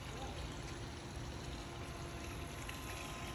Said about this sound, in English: Waterfall's flowing beautifully.